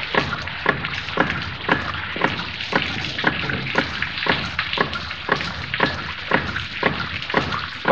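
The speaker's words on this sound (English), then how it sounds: "we simply collect water in a beaker" Water from a hydraulic ram pump splashes into a beaker in regular surging pulses, roughly once every half second, a steady rhythmic gush with no voices.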